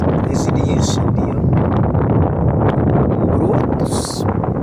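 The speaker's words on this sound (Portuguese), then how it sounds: "O barulho do vento, espetáculo do vento, espetáculo da natureza" Outdoor wind blowing hard and steadily into the microphone, a loud continuous rushing roar with brief gusty hiss bursts.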